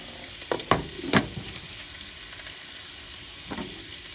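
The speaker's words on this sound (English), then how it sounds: "I have my kielbasa cooking with my garlic and onion" Kielbasa fries in a pan with garlic and onion, a soft steady sizzle broken by a few louder clatters of stirring, close and fairly quiet with no talk over it.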